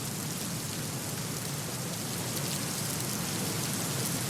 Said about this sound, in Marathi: पुन्हा एकदा कोल्हापूर जिल्ह्यात मुसळधार पावसाला सुरुवात झालेली आहे।